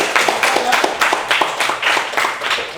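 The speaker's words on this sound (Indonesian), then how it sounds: "tepuk tangan untuk kita semua dulu" A small group clapping together in a steady, lively rhythm, close and fairly loud, lasting a few seconds.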